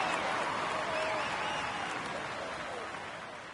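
Crowd applause for Wout van Aert, wearing the white jersey, at a Tour de France 2019 stage: a dense, continuous wash of clapping and cheering that holds steady and slowly fades over a few seconds.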